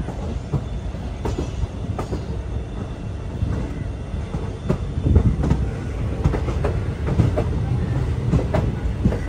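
Parasuram Express running on rails between Thiruvananthapuram and Kazhakoottam, a steady rumbling roll with repeated wheel clicks and clatter, heard close from on board with no talk.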